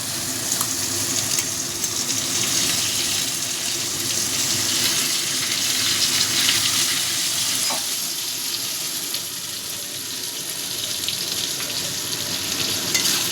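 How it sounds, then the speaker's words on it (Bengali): Chopped tomato and onion fry in a pan with a loud, continuous close sizzle and occasional stirring scrapes, steady throughout with no talking. "টমেটো কুচিটা দিয়েও ভালো করে মিশিয়ে নেব।"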